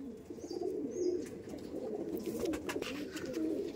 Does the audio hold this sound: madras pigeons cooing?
yes